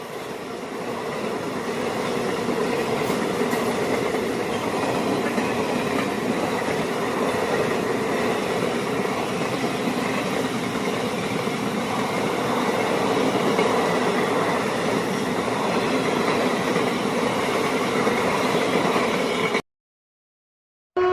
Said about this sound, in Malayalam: ട്രെയിൻ ഇപ്പോൾ തിരുപ്പറകുണ്ട്രം റെയിൽവേ സ്റ്റേഷനിൽ എടുത്തിട്ടുണ്ട്